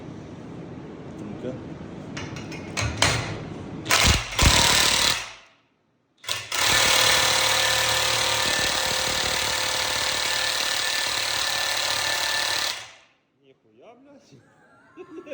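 A DeWalt DCF900 cordless impact wrench loosening a fastener: a few short bursts, a brief pause, then a loud sustained hammering rattle lasting about six seconds before stopping, with a voice heard faintly afterward.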